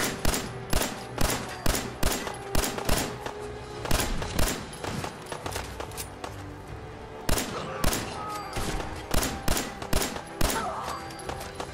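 Gunfire rings out in Fallout 4 as a long string of sharp, loud single shots and short bursts, spaced irregularly with brief pauses between volleys.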